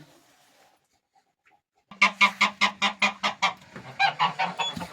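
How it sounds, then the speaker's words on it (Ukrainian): Turkey hens sitting on eggs in a nesting box give a rapid run of loud, rhythmic hissing honks close by, starting after a quiet stretch and continuing for several seconds. "Ці дві індички сидять гарно. Шиплять на мене."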